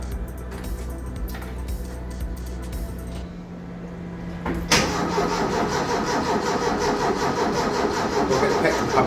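A DeLorean engine with a weak battery cranks under a steady hum, then fires and runs with a busy, rising mechanical clatter close by.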